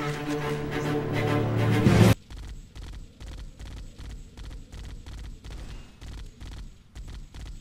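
A Warthog's chain gun turret in Halo CE rattles out rapid, evenly spaced bursts of fire, preceded by a louder blended burst of music and action before settling into the steady rhythmic shooting.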